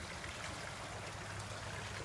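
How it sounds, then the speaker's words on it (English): Water flowing through a LifeStraw Mission gravity filter outdoors, a steady, faint rushing trickle that holds evenly throughout with no voices. "Let the water start flowing."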